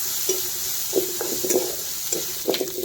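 Onions go into hot oil in a pan for dal tempering and start to sizzle. A steady sizzling hiss runs throughout, broken by several short scraping stirs of a spoon, fairly close with no voices.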